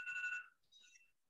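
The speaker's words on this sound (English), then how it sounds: "It's an alarm for me. I set my alarm on this time to go work out" A phone alarm chimes briefly indoors, a bright tonal ring that stops after about half a second and gives way to a fainter, higher electronic tone.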